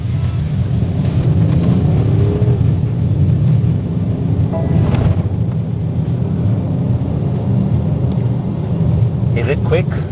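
BMW X7 30d diesel SUV accelerating hard, its engine a steady, loud low rumble that climbs and holds under continuous road and wind noise, with someone talking over it.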